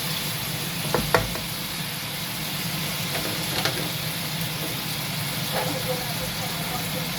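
Honey chicken wing sauce simmering and bubbling in a pan, a steady soft sizzle with a few light clinks of a utensil against the pan.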